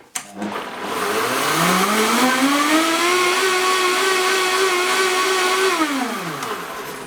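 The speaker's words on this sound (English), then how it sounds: "And blend. Get the lid on first." A blender whirs through a protein smoothie, its motor pitch climbing as it spins up, holding a steady loud drone for several seconds, then winding down at the end.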